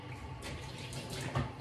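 Hot water runs and splashes in a kitchen sink while it is rinsed clean of vinegar and bubbles. The water makes a steady, close, moderate hiss with a brief splash near the end.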